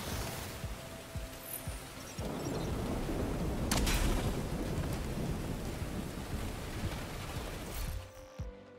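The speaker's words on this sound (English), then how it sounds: "Ooh, it's rainy." Steady heavy rain pours down outdoors while thunder rumbles loudly through the middle, a sharp crack standing out near the start, with no talk over the downpour.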